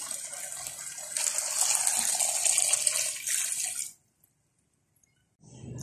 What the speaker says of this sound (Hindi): 2 कप पानी ऐड करें।